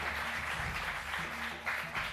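An indoor audience applauds and cheers for pianist Jon Batiste, a dense, continuous clapping roar heard up close, with a couple of louder swells toward the end.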